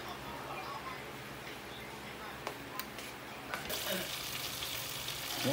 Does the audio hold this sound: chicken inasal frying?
yes